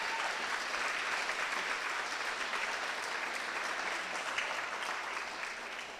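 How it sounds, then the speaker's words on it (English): Sustained applause from a crowd at a wrestling awards show, steady and dense clapping that holds for the whole stretch without pause. "So give a round of applause to all the athletes."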